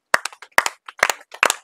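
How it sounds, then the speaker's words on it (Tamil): An audience claps in four short, separate bursts of several quick hand claps each, with brief silences between them and no talking. "நாங்கள் உங்கள் கரகோஷத்துடன்"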